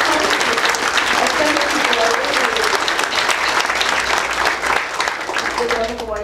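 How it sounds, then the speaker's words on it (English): A crowd at a Labor Day breakfast of a central labor council claps steadily and loudly throughout, a dense wash of applause with voices talking over it. "let's give them all an applause"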